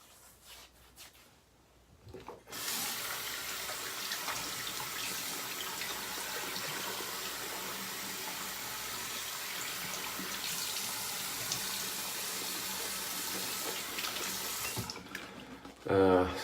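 Water running from a bathroom tap, starting after a short quiet lead-in, then a steady close gushing flow that holds for about twelve seconds before shutting off, with faint handling noise at the end.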